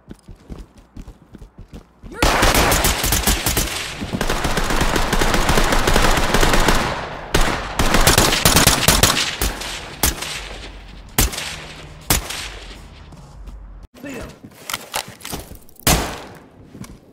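Sustained automatic gunfire in the tactical shooter Ready or Not, loud bursts and rapid volleys that stop at moments and then resume, with brief pauses near the end.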